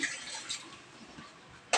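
One can of water is poured into a bread dough mix of flour, salt, powdered milk, bread improver and vanilla for empanada bread, giving a soft, steady splashing wash that fades and ends with a short sharp clink.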